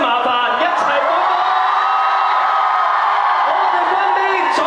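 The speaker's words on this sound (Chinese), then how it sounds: "想聽歡呼聲，麻煩一齊歡呼！" Fans at a K-pop singer's press event in Hong Kong give one loud, sustained crowd cheer with whoops and yells, continuous for several seconds at close range.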